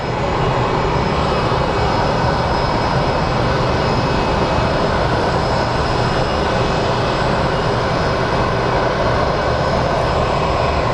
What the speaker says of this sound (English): I believe we have another plane coming in.